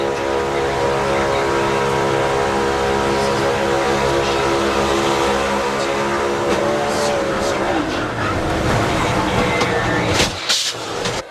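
Onboard a NASCAR Next Gen race car at speed as it gets turned around and flips upside down: loud sustained engine drone with harmonic whine, shifting and breaking up into scraping and crashing noises near the end.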